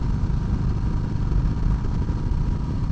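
A sport bike with a Red Bull wrap and Michelin tire sponsor decals gives off a steady, low, throbbing engine rumble, continuous and fairly close, with no rise in revs.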